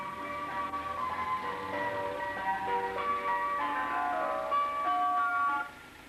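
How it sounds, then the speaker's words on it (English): An ice cream van plays its chiming tune, a bright tinkling melody heard from a short distance, continuing steadily before cutting off near the end. "The driver plays a tune to let you know he's ready to sell his ice cream."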